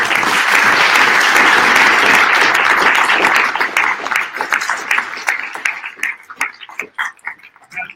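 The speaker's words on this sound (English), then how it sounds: "huge round of applause" Loud, dense audience applause fills the room after a panel at a South Bay cannabis and real estate event, then thins into scattered individual claps that fade toward the end.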